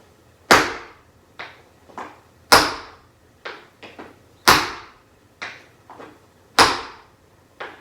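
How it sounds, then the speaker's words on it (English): Sharp tap-shoe stomps strike a hard floor alone, loud heavy hits alternating with lighter quick taps in a steady repeating pattern. "put just your ball tap down first so that it's nice and quiet before you do your stomp"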